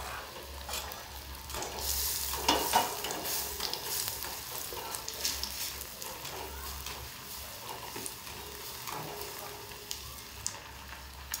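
Pav vada bread pieces coated in batter fry in oil with a continuous crackling sizzle and occasional stirring scrapes, close and moderately loud.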